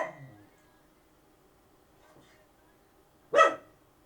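A dog gives a single sharp bark from some distance indoors, loud against an otherwise quiet room, after a faint brief sound at the very start.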